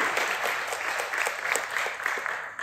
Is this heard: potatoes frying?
no